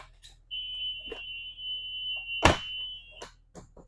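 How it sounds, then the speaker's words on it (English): A bus emergency exit alarm sounds a steady high electronic tone for nearly three seconds, with clunks of the exit being handled and one loud thump partway through. "the emergency exits do work, and again, the audible alarm"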